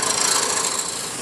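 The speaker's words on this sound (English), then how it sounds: "This cocobolo sands really well with the sanding wax." Cocobolo wood being sanded by hand with sanding wax: a dry, continuous rasping rub, close and steady, with no voices.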